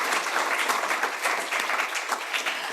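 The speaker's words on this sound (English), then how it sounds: "How about another round of applause?" Steady applause from a crowd at an awards event, dense and continuous clapping that holds at an even level throughout.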